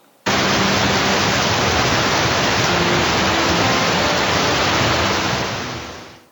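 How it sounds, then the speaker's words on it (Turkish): Recorded rain in a children's listening exercise, a loud even hiss of steady rainfall starting abruptly and fading out at the end. "Bakalım yağmur nasıl ses çıkarmış?"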